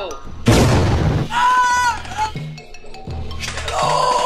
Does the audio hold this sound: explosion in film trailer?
yes